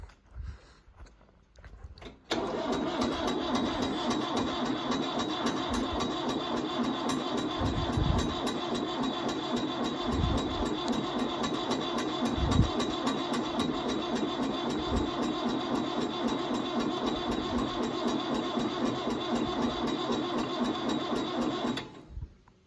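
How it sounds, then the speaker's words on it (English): After a brief quiet stretch, the Ford diesel engine of a 1974 Ford 5500 backhoe, long unused, cranks and catches on a cold start, then idles steadily with a rough, even diesel clatter that continues unbroken until it stops. "it's got a just beautiful running Ford diesel engine"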